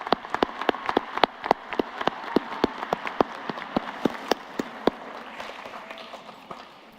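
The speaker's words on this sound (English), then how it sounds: "Let's all give our teachers a big round of applause" Audience at a high school commencement ceremony clapping for teachers, a few loud distinct claps over a steady wash of crowd applause that thins out toward the end.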